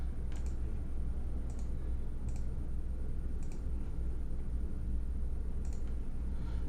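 Mouse clicks on attribute buttons in a Roll20 character sheet, five crisp single clicks spaced about a second apart over a steady low hum, with no talking.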